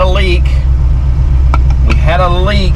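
A TKX car's engine idles steadily on Holley Sniper 2 EFI with the coolant warm, a low continuous rumble running throughout while someone talks over it.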